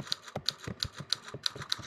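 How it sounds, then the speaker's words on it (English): Fast typing on a computer keyboard during a kids' coding class, a quick run of crisp, evenly spaced key clicks close by, with no talk. "You're typing something really fast already."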